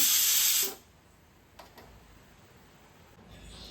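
Steam hisses loudly from a pressure cooker of millet pulao after the stove is switched off, cutting off within the first second and leaving a quiet room with a few faint clicks.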